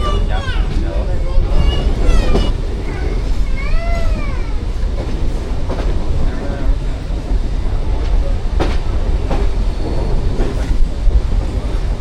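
A MEMU passenger train runs from Shoranur toward Ernakulam in the early morning, with a steady loud rumble and rattle of the carriage, squealing wheel tones, periodic clacks over rail joints and faint voices underneath.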